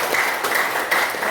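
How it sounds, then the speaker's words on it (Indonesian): An audience claps steadily through a short burst of applause at a school teachers' dissemination session, dense and fairly close, with no speech over it. "Oke, tepuk tangan dong buat"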